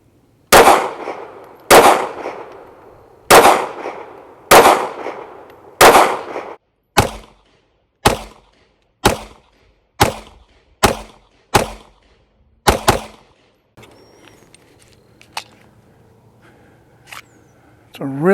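A 9mm IWI Masada Slim pistol fires about eleven sharp, loud shots at a steady, slightly quickening pace, each with a short ringing tail, followed by quieter handling clicks and faint background noise.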